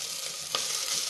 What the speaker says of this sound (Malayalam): ഈ അരിയും കൂടെ ചേർത്ത് 1-2 മിനിറ്റ് നെയ്യിലൊന്ന് റോസ്റ്റ് ചെയ്തെടുക്കാം